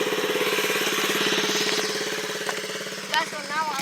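A small pocket bike engine runs steadily up close with a buzzy, rapid pulsing idle that eases slightly, then a brief sharp clatter near the end.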